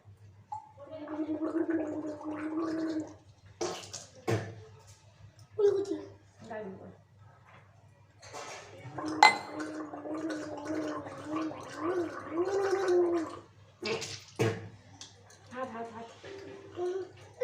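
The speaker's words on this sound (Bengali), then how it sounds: "জল দিব তো কুলকুচি করার জন্য" A child gargles and rinses their mouth after brushing teeth, with bubbling gargle bursts and splashy spitting close by, and someone talks between them.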